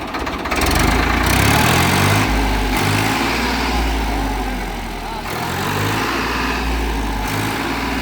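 A tractor's diesel engine idles close by with a loud, steady chugging rumble that dips briefly midway and then holds.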